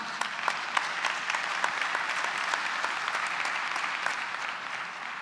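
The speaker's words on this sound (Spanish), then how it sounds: "un aplauso para nuestros panelistas" Steady applause from a conference audience for a panel of speakers, many hands clapping at moderate volume with sharper individual claps standing out, continuing evenly throughout.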